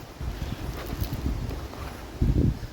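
Gusty wind blows outdoors, buffeting the microphone with a low, uneven rumble that swells in bursts, strongest near the end; no one speaks.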